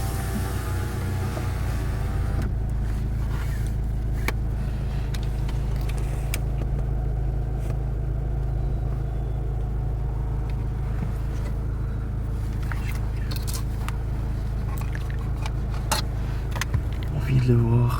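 Car rolling slowly toward a wildlife spot near the sea, a steady low engine rumble running throughout with occasional knocks and small bumps, close and continuous, with people talking over it.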